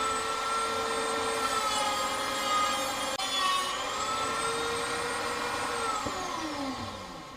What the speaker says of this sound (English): off we go, back in with the sanding drum.